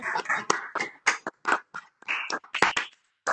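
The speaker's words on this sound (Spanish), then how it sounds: "podríamos tratar de aplaudir los organizadores en audio" Scattered, uneven claps from participants at the online opening of a Latin American mathematics colloquium, picked up through home microphones as sparse bursts with short gaps between them.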